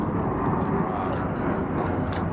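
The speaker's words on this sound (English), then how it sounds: "planes roar past," Aerobatic planes at the Gold Coast Pacific Air Show over Surfers Paradise roar past in a loud, steady, continuous engine rush that fills the whole stretch.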